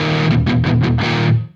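Distorted electric guitar played through a Soldano amp model on a Quad Cortex, a few loud chugged chords in a rhythmic burst that rings out briefly before cutting off, with no talking.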